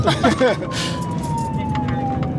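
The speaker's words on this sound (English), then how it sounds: "and for the first time all day, Officer Ruff put on his lights and sirens." Police car siren with lights on, a steady gliding wail heard at moderate distance after a brief burst of speech at the start.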